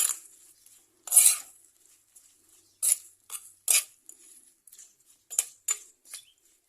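Salted ingredients for a sardine curry are tossed in a pan: sparse, sharp utensil clinks and scrapes arrive in short bursts with near silence between them and no audible sizzle.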